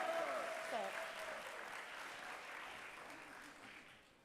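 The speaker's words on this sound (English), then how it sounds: "Can you give another round of applause?" Graduation crowd applause, an even hiss of many hands clapping with a few faint voices and a brief whoop early on, moderately distant and slowly tapering.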